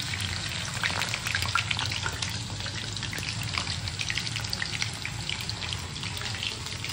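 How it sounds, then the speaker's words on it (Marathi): A batch of snacks frying in very hot oil over a gas flame at home, a dense continuous sizzle and crackle heard up close with no talking. "आता मी काढते फर्स्ट बॅच. गॅस कमी करते. तेल खूपच तापलं आहे."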